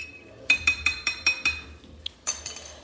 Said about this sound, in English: So I'm gonna keep stirring it